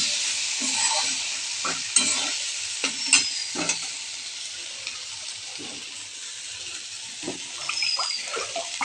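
Potatoes and spices fry in a pan with a bright, steady sizzle up close, punctuated by several stirring scrapes and clinks, no talking over it.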